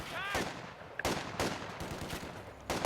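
Machine gun fire in the real-time strategy game Company of Heroes 2 on the Essen Steelworks map: sharp gunfire bursts and booms recurring irregularly over a dense battle din, with some faint talk.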